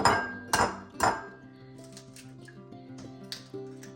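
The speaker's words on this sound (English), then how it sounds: "so the 3 eggs, I'm gonna break them and put them in here" Three eggs are cracked into a bowl, giving three sharp clinks at an even pace, close and clear, followed by quieter taps and small rattles of the shells and bowl.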